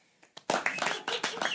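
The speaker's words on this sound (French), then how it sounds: "Si vous préférez l'histoire de Viagra à l'instant, veuillez applaudir, s'il vous plaît." A studio audience claps to vote for a favourite story, bursts of hand claps swelling after a couple of faint early claps and continuing steadily near and fairly loud.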